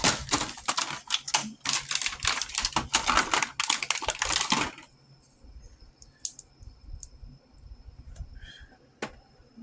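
A Playmates Star Trek: The Next Generation Guinan action figure from 1993 being torn out of its plastic blister pack, a dense run of crinkling and cracking plastic that stops abruptly, followed by a few faint clicks and handling sounds.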